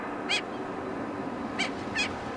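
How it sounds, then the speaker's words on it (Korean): Saunders's gulls at their breeding site on Yeongjong Island call in three short, distant, high-pitched cries over a steady background hiss. "번식을 위해 영종도를 찾은 검은머리 갈매기."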